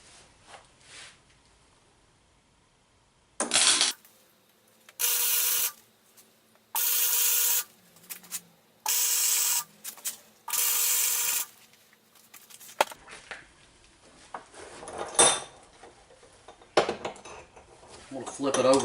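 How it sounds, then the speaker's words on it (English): Tack welds joining a key to a transaxle hub: five separate bursts of harsh, buzzing arc crackle, each lasting about a second, followed by clanking metal handling and scraping noises nearby. "I'm welding the key to the hub, but I'll just tack it right now"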